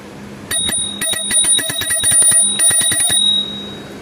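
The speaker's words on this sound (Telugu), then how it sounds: "ఈ గంట కూడా సౌండ్ మస్తు వస్తుంది" A bicycle bell in a cycle parts shop rings in loud, rapid trills, two bursts of bright metallic ringing separated by a short pause, close up and alone.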